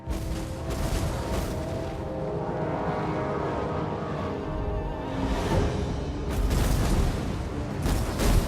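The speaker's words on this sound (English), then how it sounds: "Artillery ready!" Dwarf artillery in a Total War: Warhammer 2 battle fires booming volleys through a constant din of fighting, with heavier blasts near the end.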